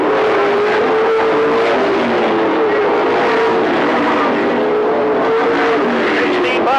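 Race cars roar around an oval track on the second day of a 2003 Blowout event, a loud, steady engine drone with shifting pitch as the pack sweeps into a turn, close and continuous.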